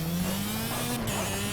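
Race car engine in the VR racing game Project Cars drones at a steady, slightly rising pitch under a hiss of tire and road noise, loud and continuous for a brief stretch without speech.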